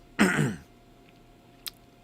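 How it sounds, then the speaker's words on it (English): A single short, close throat clearing right into a radio station microphone, followed by a faint brief click, then quiet. "Didn't mean to clear my throat there in the mic, but I did."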